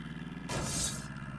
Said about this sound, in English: whenever you hit, it sounds like shattering glass for some reason